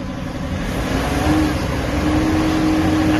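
A Nissan Navara NP300 pickup engine with a code P0113 fault, emitting white and black smoke, runs steadily at close range with a sustained low drone and a faint whine, holding an even level throughout with no voices.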